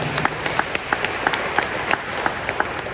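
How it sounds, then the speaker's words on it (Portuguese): A Catholic church congregation claps after a Gospel reading, a broad ripple of applause with several sharp, distinct claps popping out in an irregular rhythm over the steady crowd sound. "Vamos aplaudir a poderosa palavra de Deus."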